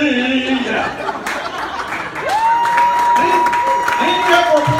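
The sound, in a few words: audience applause at comedy show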